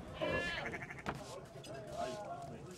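Sheep bleat in the video game Assassin's Creed III, two wavering bleats close together over a few seconds, with a voice faintly underneath.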